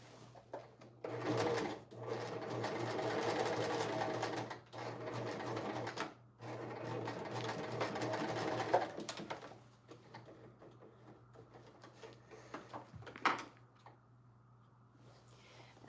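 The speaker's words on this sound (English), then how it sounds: "So turning this over and stitching it." A sewing machine stitches a skirt in a long, steady run close by, then stops, followed by quieter handling sounds and a few soft knocks.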